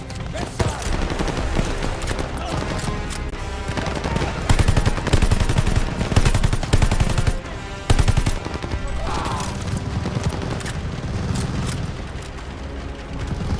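Dense gunfire in the Call of Duty: Vanguard WWII campaign, with rapid machine-gun bursts, rifle shots and heavy booms rolling continuously, loud and close, with shouted battlefield voices mixed in.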